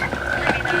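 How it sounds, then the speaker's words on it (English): A dense chorus of toads croaks at once in a dramatic TV scene where the toads have fallen from the sky, a loud, continuous wash of calls with no gaps. "Mulder, toads just fell from the sky."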